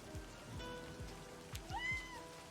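Steady rain patters on surfaces in the visual novel game LIVBER, a soft continuous hiss with low thuds every half second and a faint cat-like call near the end.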